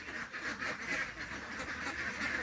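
Ducks on a duck farm quacking in a busy overlapping chorus, many nasal calls repeating rhythmically at moderate distance, fairly quiet and continuous.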